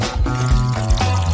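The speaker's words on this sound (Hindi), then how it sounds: "चीनी, पानी और डाई को एक साथ मिक्स कर लेते हैं।" Sugar, water and dye being mixed together for a glaze, heard as close, continuous liquid sloshing and pouring with a few wet gurgles, with no voices.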